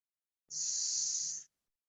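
A single steady, hissing ujjayi yoga breath drawn through a constricted throat, lasting about a second, close and soft.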